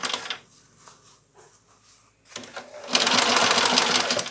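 Sewing machine stitching a knit and fabric mitten, a short quiet run followed by a longer, louder whirring burst near the end, with soft handling noises between.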